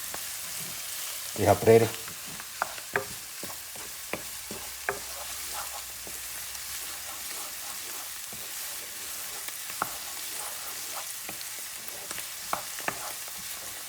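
Chicken fricassee frying in a pan gives a soft, steady sizzle beneath intermittent scraping stirs, with a brief louder clatter early on and a short spoken remark partway through.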